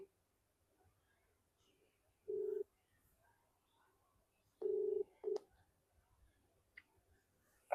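A phone rings unanswered in a quiet room, the ringback tone sounding in a couple of short bursts separated by near silence.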